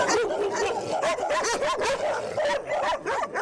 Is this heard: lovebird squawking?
no